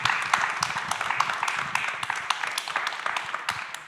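An audience applauds to welcome a panel at a startup and philanthropy event, a steady wash of many hands clapping with dense sharp claps sustained throughout, faint voices beneath.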